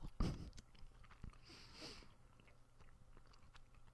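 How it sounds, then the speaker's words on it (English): Gum is chewed close to the mouth, giving a moist bite and a few soft smacks and crunchy squelches. The sounds are louder at the start and then fade to faint mouth noises, with no speech. "it feels really weird to be talking while chewing gum"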